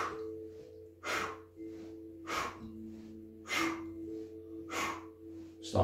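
Slow rhythmic breathing during a seated torso rotation exercise, roughly five broad breathy inhales and exhales about a second apart, close and fairly soft over a low steady hum, with no talking.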